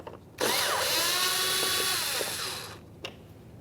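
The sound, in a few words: power drill removing Phillips head screws from Kia Forte bumper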